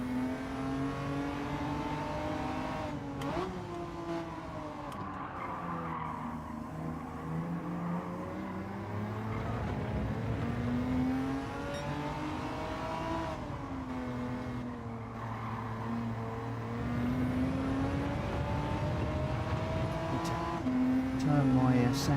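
BMW race car engine in Gran Turismo 7 during online lobby racing, revving up and down in repeated sweeps through gear changes, loud and continuous for the whole stretch with a brief talking voice underneath.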